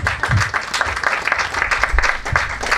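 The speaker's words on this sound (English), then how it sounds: "let's clap for whoever that" Audience applause fills a gathering where survivors share personal stories, a steady dense patter of many hands at moderate loudness throughout.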